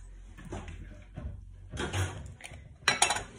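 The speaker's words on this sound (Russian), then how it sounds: "Сковородочки." Frying pans and dishes clatter and knock in a kitchen, a few scattered clinks and bumps building to a louder clash near the end, close by and alone.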